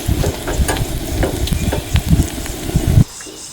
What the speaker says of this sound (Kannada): ಇದಕ್ಕೆ ನಾವು ಜಜ್ಜಿದ ಬೆಳ್ಳುಳ್ಳಿಯನ್ನು ಹಾಕಿಕೊಳ್ಳುವ